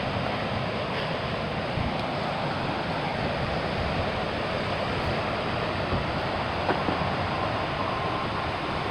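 A flooded river rushes past in a steady, broad roar of churning water, constant and loud throughout with no talking.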